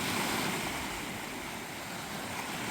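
Ocean waves at night on the coast of Puerto Rico make a steady, dense wash of surf with no distinct breaks, mixed with some wind rush and no voices.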